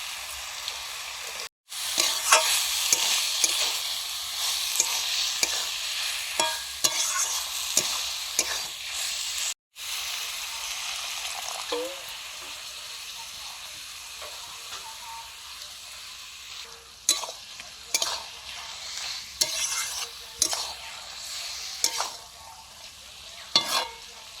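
Steady frying sizzle of brinjal with cumin and a little coriander, with repeated scraping stirs of a spatula in a pan, close and fairly loud, with two brief pauses.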